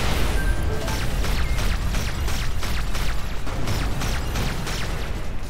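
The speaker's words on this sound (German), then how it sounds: "Oh, nette Explosion." A spaceship explosion in the space combat game Everspace 2 rumbles densely, with a rapid string of crackling bursts over a continuous low roar.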